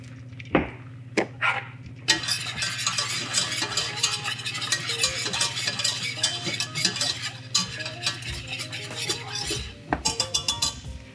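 Cajun gravy roux being stirred in a pot, with a steady run of close scraping and clinking of a utensil against the pot, broken by a few sharper knocks and pauses.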